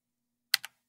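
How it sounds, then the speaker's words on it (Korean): A single press of the V key on a computer keyboard gives a quick double click, a sharp tap followed at once by a softer release, close and quiet in an otherwise silent room. "키보드의 V 버튼을 눌러 봅니다"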